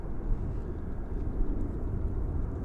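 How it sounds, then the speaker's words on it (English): A Volaris Airbus A321 airliner arriving at DFW Airport on its landing approach, a steady low broadband jet rumble heard from a distance, even and unbroken with no voices. "Airbus A321 coming in from Guadalajara"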